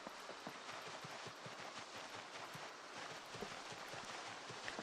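Faint horse hooves clip-clop in a quick, busy rhythm in the video game Project Zomboid, over a constant background wash, distant and muffled.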